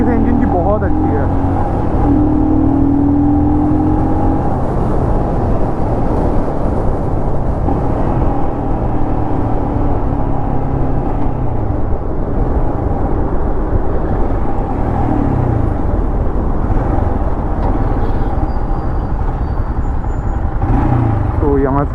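A Royal Enfield Scram 411 motorcycle engine drones steadily while riding, close and loud under a continuous rush of wind, with a voice talking over it at times.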